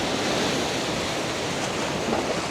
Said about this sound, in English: I'll just wait for the waves to go a little bit